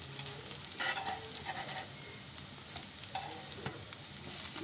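French toast slices fry in a pan, giving a soft, steady sizzle with a few quiet clinks and scrapes as they are turned. No one speaks.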